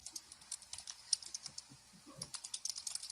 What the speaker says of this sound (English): all of the typing in the background